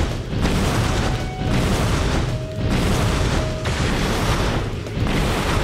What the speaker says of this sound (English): Damn it, fire gun does look nice.